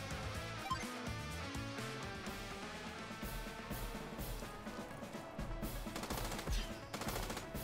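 Units clash in Advance Wars as a rapid burst of game gunfire, like a machine gun, rattles over upbeat music, with dense repeated shots building toward the end.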